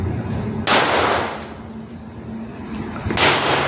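Gunshots fired at an outdoor shooting session, two sharp broadband reports roughly two and a half seconds apart, loud and close over steady background noise.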